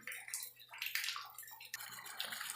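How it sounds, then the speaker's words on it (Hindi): Water pours from the outlet of a Kent RO purifier in a fast, splashing stream, with brief surges and drips close by for a couple of seconds. "अब इसका फ्लो आप देख सकते हैं काफ़ी तेज़ हो गया"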